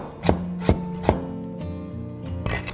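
A knife chops red pepper on a cutting board, several sharp, distinct knocks, the first three evenly spaced and then a few looser strikes, close and clear over a steady low hum, with no talking.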